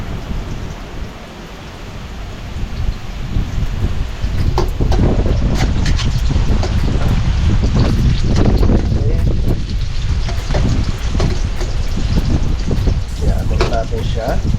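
Strong wind blowing outdoors, roaring and buffeting loudly against the microphone with gusts building after a quieter start, mixed with rain-like noise and some faint voices.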